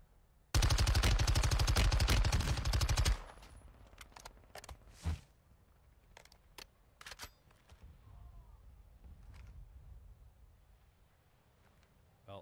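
Gunfire in a battle royale video game opens with a loud, fast automatic burst lasting a few seconds, followed by scattered, quieter single shots and clicks over a low background.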